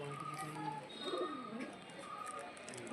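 Pigeons coo softly in a bird collection, with a few low rolling calls and faint chirps, while quiet background murmur runs underneath.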